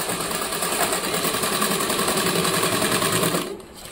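An electric sewing machine runs steadily, stitching a shopping bag made from a rice sack; its fast, even rattle holds loud and continuous for most of the stretch before cutting off near the end.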